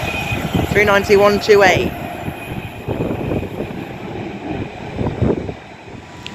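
A train runs through on the down fast line at Rugby station with a loud rushing roar and squealing tones early on that ease into a lower rumble, while a voice speaks over it.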